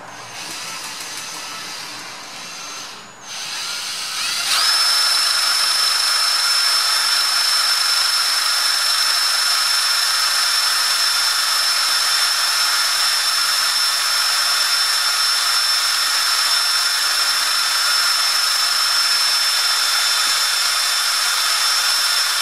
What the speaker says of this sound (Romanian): Vom învârti cu bormașina să vedem ce voltaj ne scoate.